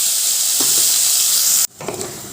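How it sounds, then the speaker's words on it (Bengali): Tomato, onion and green chili paste fries in a pan with a steady, loud sizzle that cuts off abruptly, then returns more unevenly with a few light stirring scrapes. "এরপর এটা আমি ভালো করে ভেজে নেব টমেটোর কাঁচা গন্ধটা যাতে না থাকে"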